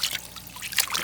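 Water trickles and splashes briefly as a dog is rinsed during a bath, a short close running-water sound.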